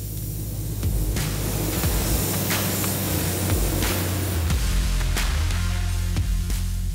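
A continuous hissing spray gun painting the inside of car doors black on a 1970 Plymouth GTX rushes steadily for several seconds, close and loud, with occasional clicks and a low hum beneath.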